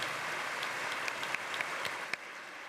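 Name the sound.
audience applause for the speakers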